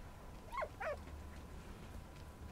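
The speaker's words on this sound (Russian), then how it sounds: "Собака." A dog in the video game Valiant Hearts gives two quick, faint whimpering yips close together over a low, quiet background hum.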